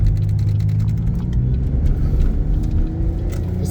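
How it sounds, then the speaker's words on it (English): Car engine pulling hard while driving in traffic, a steady low rumble and whir that builds slightly as it picks up speed, close and continuous with no talking. "This car's got a lot of power and torque. You can definitely hear it pick up."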